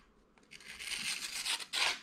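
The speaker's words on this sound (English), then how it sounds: "it does cut paper" A Spyderco Navaja folding knife slicing through paper, giving a few quiet, close rasping tears that grow louder toward the end, heard alone.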